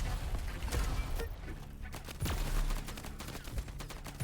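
Rapid machine gun fire in the arena shooter Diabotical, a dense string of sharp shots in quick bursts with brief pauses, loud and close, running through the whole moment with no voice over it.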